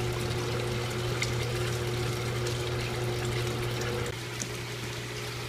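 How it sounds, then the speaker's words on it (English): Water gurgles and pours steadily through a bell siphon draining an aquaponics media bed, over a constant low pump hum, the flow shifting slightly near the end. "So the siphon's slowly coming. You'll see the volume increase as soon as it's drawn all the water out"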